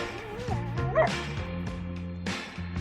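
A dog yips and whimpers in short pitched bursts over a steady musical bed, fairly close and moderately loud, with a brief louder cry near the middle.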